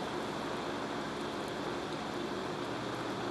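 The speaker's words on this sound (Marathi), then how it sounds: "धोधो पाऊस जो कोसळतोय" Heavy monsoon rain falls over flooded Mumbai streets as a steady, even wash of broadband noise, unbroken and with no voices, ending with a brief knock.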